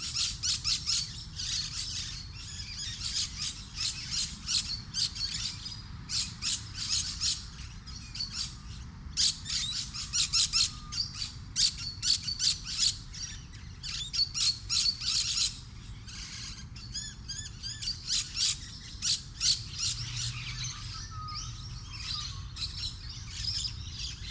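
Lorikeets on a well-planted university campus near Melbourne give rapid, shrill chattering calls in repeated bursts, loud and close, with short pauses between flurries and no voices.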